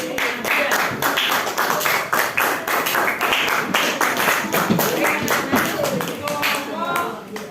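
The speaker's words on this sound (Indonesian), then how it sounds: "Tepuk tangan untuk kelompok" A group claps hands in a classroom or training session, a lively run of distinct, fairly close claps that keeps going without a break, with a few voices faintly mixed in.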